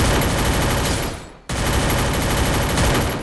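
Rapid automatic gunfire in the mobile battle game Free Fire, a dense, loud continuous burst that cuts out briefly midway and then resumes just as intensely.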